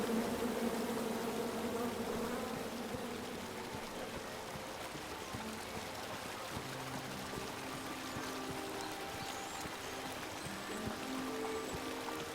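Bees buzzing in the adventure game King's Quest, a soft continuous insect drone layered over a trickling, stream-like wash, steady and moderately faint with no speech.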